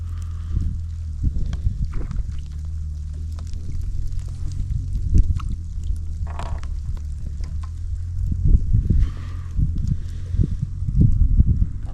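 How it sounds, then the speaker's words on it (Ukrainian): Rain beginning to fall at a lakeside spot during March float fishing for crucian carp: a steady, fine crackling patter runs throughout over a low, rumbling wind noise, with no voices. "І дощ починається, це жесть."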